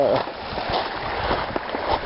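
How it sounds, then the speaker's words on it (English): Creek water flows and gurgles past a big rock at a camp along the Butterfield Trail in November, a steady rushing wash with small splashes, close and fairly loud. "Quite a bit of water flowing here."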